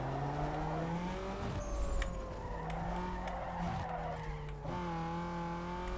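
Tires squeal and skid during a drag race in Need for Speed: Underground 2, long gliding screeches over a revving car engine that shifts pitch, loud and close with no talking.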